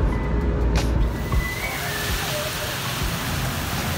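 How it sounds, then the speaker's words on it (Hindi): Light rain falling in Islamabad, a steady broadband hiss of drizzle that stays even and close throughout, with a faint vehicle-like rumble underneath. "हल्की हल्की बारिश स्टार्ट हो गई।"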